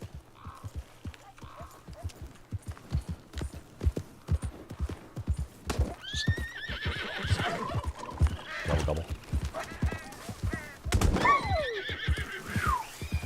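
A horse in the video game Red Dead Redemption II clip-clops along at a steady rhythm, then neighs loudly several times in the second half, whinnies standing out over the hoofbeats.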